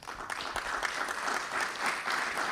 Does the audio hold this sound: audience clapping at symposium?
yes